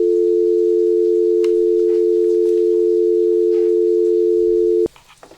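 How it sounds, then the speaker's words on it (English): A steady, loud North American telephone dial tone holds unbroken for nearly five seconds, then cuts off abruptly, followed by faint handling noise. "this is just note saying this is a North American dial tone"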